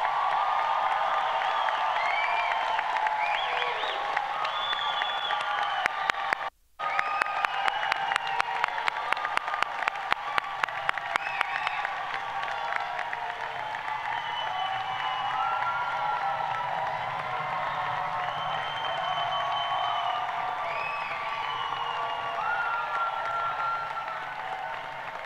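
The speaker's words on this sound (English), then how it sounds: "Let's have a round of applause." An audience at the UI College of Medicine White Coat Ceremony in Chicago applauds for a long stretch, with sustained clapping, scattered cheers and whoops filling the hall, and a sharp burst of claps near the start.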